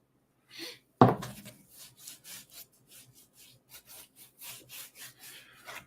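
Salt and seasoning being rubbed by hand into meat during meal prep, a series of short, soft rasping strokes in an even rhythm after one louder knock, close and quiet with no talk.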